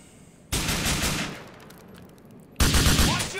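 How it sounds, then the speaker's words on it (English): Bursts of automatic gunfire from Grand Theft Auto 4 rattle loudly in two dense volleys, the first sustained for about two seconds, then a second burst starting up again after a brief lull. "Keep shooting while I move around."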